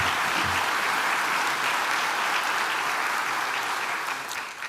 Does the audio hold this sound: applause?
yes